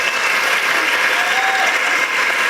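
Sustained applause from an audience clapping for students at a school stage event, dense and steady from start to finish with no pauses.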